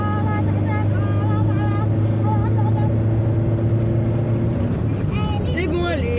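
A car engine accelerating, a loud, steady motor drone that rises in pitch toward the end, with a voice speaking over it.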